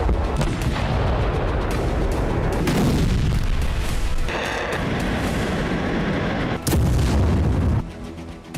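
Russian strikes exploding at Ukraine's Kryvyi Rih airbase, a dense, continuous roar of deep booms and blasts layered on one another, loud and close with no gaps, then a sharp burst near the end before the din eases.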